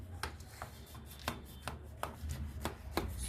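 A hot baked dish fresh from the oven being cut with a knife, about nine crisp, separate chopping strokes landing in an uneven rhythm against the board, close and clear.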